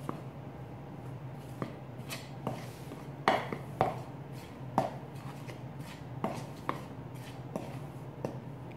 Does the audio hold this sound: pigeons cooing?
no